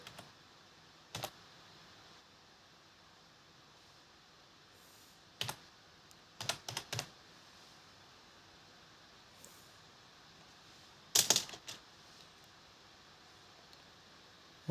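Short bursts of keystrokes on a computer keyboard, quiet and close, come in scattered clusters separated by near silence.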